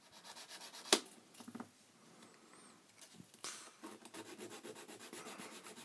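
A metal nail file rasps back and forth against a dented part of a Sega Mega Drive console under restoration, a close, steady rubbing scrape with one sharp click near the start and faster strokes toward the end.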